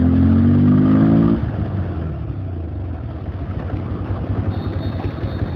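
A Bajaj Pulsar 150 motorcycle engine, freshly serviced, revs up loudly for about a second, then drops back to a steady close idle with a burbling exhaust.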